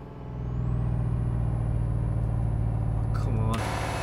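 A heavy truck hauling about 60 tons in Euro Truck Simulator 2 drones loudly and steadily while a rising whine climbs, then the engine tone shifts abruptly near the end as a gear drops.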